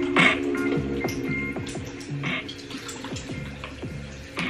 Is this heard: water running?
yes